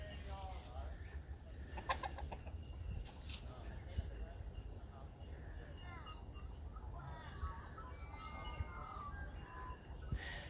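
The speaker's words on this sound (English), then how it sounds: "Frank the Tank's that rooster" A farmyard rooster clucks and calls in short bursts at a modest distance, quiet against outdoor background noise, with faint bird chirps scattered around.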